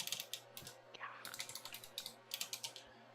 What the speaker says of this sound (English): having lots of trouble typing tonight.